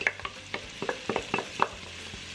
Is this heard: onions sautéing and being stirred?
yes